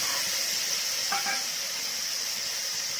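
Chopped tomatoes sautéing in hot oil in a pan for chicken soup, a steady close sizzle with a brief stir partway through, no talk.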